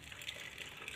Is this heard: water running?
yes